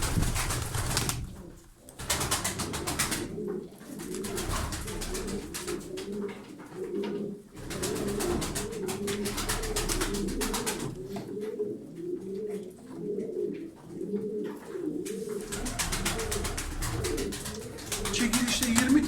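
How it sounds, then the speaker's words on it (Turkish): Tumbler pigeons in a loft cooing steadily, several birds giving repeated soft, rolling coos close by in a continuous layered chorus, with brief stretches of wing flapping and a voice talking in the background at times. "Alın bu kuşları damızlık yapın."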